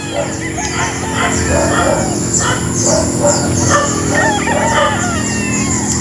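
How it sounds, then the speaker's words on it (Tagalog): Many chickens and roosters on a wide farm where the birds are tethered cluck and crow continuously, several voices overlapping at once, loud and near against a steady low background hum. "napakaraming manok dito"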